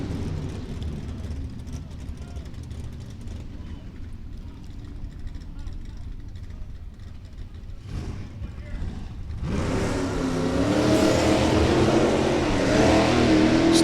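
Drag race cars, a GTI automatic and a 350 Nova, launch down the strip, a low engine drone swelling into a louder rising roar as they accelerate, with an announcer talking over the noise.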